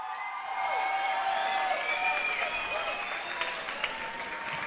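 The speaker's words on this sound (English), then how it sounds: "Big round of applause." Crowd applause at an amateur fight night in a Brisbane tavern, a sustained wash of clapping with some cheering that swells quickly and carries on, with a whistle-like tone riding above it.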